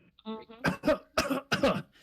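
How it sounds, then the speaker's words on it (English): A person coughs three or four times in quick, rough bursts, close and fairly loud, preceded by a short throat-clearing rasp, during a tabletop role-playing session. "as I cough my lungs out"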